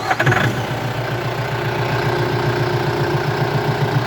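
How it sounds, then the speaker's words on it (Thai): A four-cylinder engine on a TT2.50 50 hp tractor cranks and catches, then settles at once into a steady, close, rhythmic idle with no voices. "เสียงเครื่องนิ่มมากครับ"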